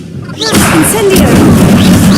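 An Incendio fire spell in Hogwarts Legacy bursts out close and loud with a booming rush of flame that quickly fills the soundscape and carries on roaring under a man's speech.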